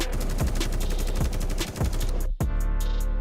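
Rapid bursts of gunfire crack out in the survival game This Land Is My Land, loud repeated shots with a brief pause near the end.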